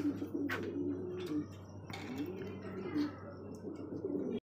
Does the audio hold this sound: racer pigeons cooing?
yes